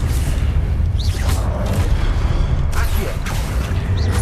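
Fiery Confringo spell cast in the video game Hogwarts Legacy, giving a couple of sharp whooshing bursts and booms over a steady, loud bed of game rumble and music.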